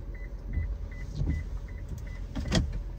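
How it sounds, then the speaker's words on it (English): A new Toyota's rear wiper motor activating after the car shifts into reverse: a few soft whirring motor sweeps with faint repeating beeps, quiet and close inside the cabin, no speech. "The rear wiper goes."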